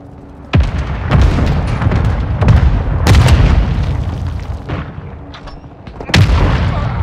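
Airstrike explosions in Call of Duty Modern Warfare II land as a series of loud, heavy booms, about a handful spaced irregularly across a few seconds over constant low battlefield rumble.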